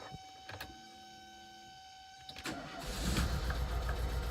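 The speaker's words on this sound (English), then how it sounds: "It even idles. It runs well." A repaired car engine cranks and catches after a brief electric whir and a few clicks, then settles into a steady, close idle rumble that grows fuller over the last couple of seconds.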